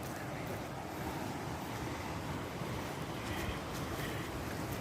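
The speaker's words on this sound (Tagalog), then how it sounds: "Buti pa dito may alon." Ocean waves wash steadily onto a beach at Little Batanes, a continuous, fairly loud rushing surf mixed with wind buffeting the microphone, with no talking.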